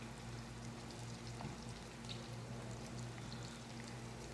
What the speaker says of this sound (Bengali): তেল গরম হয়ে গেছে, এই যে পেঁয়াজ দিয়ে আগে কষাইলাম